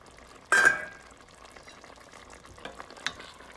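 Stirring chicken ragu in a pot: a short scraping burst of the spoon near the start, then quieter scattered clinks and stirring over a faint low simmer, with no talking.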